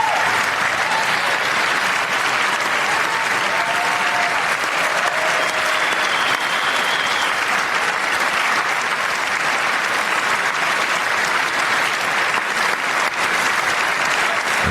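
Long, steady audience applause in a large hall during a political address, a dense continuous roar of clapping that holds loud and unbroken throughout, with a few faint cheers or whistles poking through.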